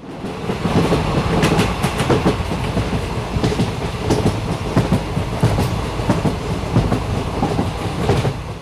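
A passenger train runs along the tracks with a loud, rhythmic clickety-clack of wheels over rail joints and a rumbling undertone, with no voices.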